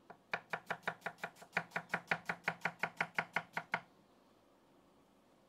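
A knife finely chopping onion on a cutting board in a home kitchen: about twenty quick, evenly spaced sharp chops, close and clear, then stopping into quiet room tone.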